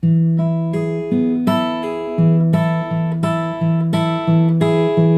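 A guitar strums a repeating rhythmic pattern of plucked chords, bright and close, with clear attacks marking each beat across two short phrases.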